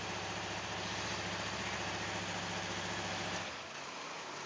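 A Honda CBR R15 sport motorcycle engine idles steadily with a smooth, even hum and a faint mechanical rattle, then drops noticeably in loudness near the end.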